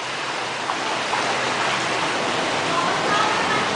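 Knee-deep flood water in a flooded Bangkok street swishes and churns in a continuous broad rush as someone wades through it, close and fairly loud throughout.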